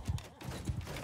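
Horse hooves clip-clop in a Bannerlord battle, a quick run of faint thudding steps in uneven bursts over about a second, with no talk.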